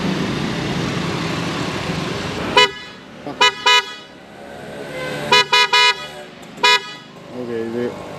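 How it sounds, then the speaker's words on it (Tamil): A car's existing low-sounding horn toots in short bursts, a single honk followed by a pair and then a quick run of three more, loud and close, with a person talking between and over them. "ஆல்ரெடி இருக்கிற ஹார்னுடைய சத்தம் வந்து ரொம்ப லோவாக இருக்குது."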